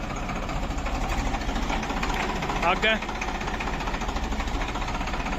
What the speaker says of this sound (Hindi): पीटीओ चल रहा है और ट्रैक्टर को आगे पीछे करते हैं।